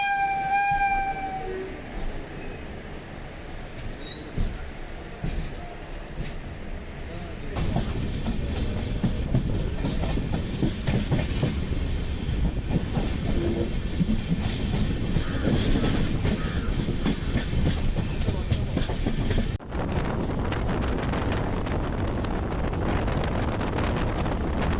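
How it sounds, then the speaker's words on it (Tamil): A Guruvayur to Thiruvananthapuram Central Intercity Express train rumbles past close by in Kerala, India, with steady clattering wheels and heavy wind buffeting, a brief horn tone at the start, lasting the whole stretch. "Train number 16341 Guruvayur to Thiruvananthapuram central intercity express."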